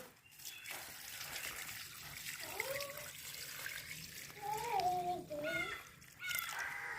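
Rice water (kanji vellam) pours and trickles steadily into a container, close and moderately soft, with brief faint sounds over the liquid.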